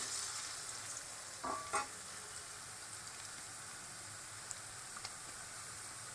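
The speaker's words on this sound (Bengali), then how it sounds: "এবার এর মধ্যে দুটো কাঁচা লঙ্কা দিয়ে দিলাম দিয়ে একটু নাড়াচাড়া করে নিই কয়েক সেকেন্ড" Two green chilies are stirred into frying cabbage in a pan, making a faint, low sizzle with a few brief scrapes and taps.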